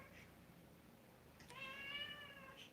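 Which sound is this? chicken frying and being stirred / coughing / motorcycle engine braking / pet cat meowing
pet cat meowing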